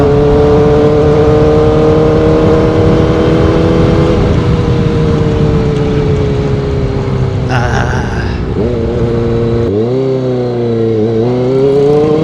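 A 2025 Kawasaki ZX4RR motorcycle engine while riding, a loud, steady high-revving whine with strong harmonics, dipping briefly and then dropping sharply in pitch at a gear change before climbing again. No voices.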